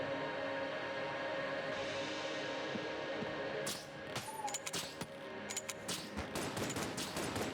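A gun fires at a mimic in a video game, cracking out as a quick burst of sharp shots with rattling impacts, preceded by a steady droning background.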